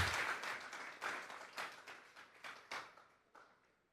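Church congregation clapping an offering of applause, a run of bursts that swell and fade over a few seconds, moderately near and fairly soft, with no voices over it.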